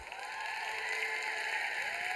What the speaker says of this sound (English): We all need to give them a big round of applause.